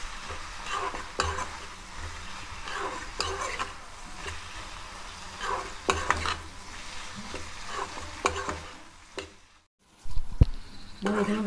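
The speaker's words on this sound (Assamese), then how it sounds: "2 মিনিট হৈ গ'ল, মই লৰাই দিছোঁ। মই আগতে বইল কৰি থোৱা আছিলে, এতিয়া মই 5 মিনিটমান ভাজিম এনেদৰে।" Colocasia and chickpea curry frying in a pan, a low steady sizzle broken by repeated scraping strokes of a spoon stirring, quiet and close, with a brief near-silent pause before the stirring resumes.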